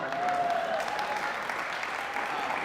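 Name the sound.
round of applause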